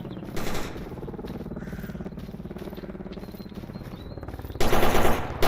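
Gunfire in the video game STALKER: Anomaly, rapid automatic bursts rattling on throughout, with a louder, denser burst near the end; no voices.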